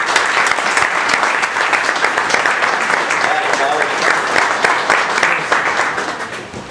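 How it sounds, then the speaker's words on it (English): A crowd gives a bartender at a country show a steady round of applause, dense, even clapping that holds strongly throughout and tapers slightly at the end. "let's have a nice big round of applause for our bartender"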